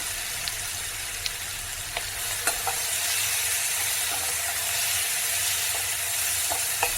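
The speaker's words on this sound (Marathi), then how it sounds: "जो आपण वाटून घेतलेला मसाला आहे तो सुद्धा आपण तेलामध्ये भाजून घ्यायचा" Ground masala roasting in hot oil over a medium flame for spicy urad dal curry, a continuous hiss with occasional sharp spoon taps and scrapes against the pan, close and without speech.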